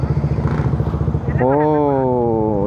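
A motorcycle engine runs close by on a ride in the Philippines. A pulsing idle-like chug gives way to a steady rising rev for the rest of the moment.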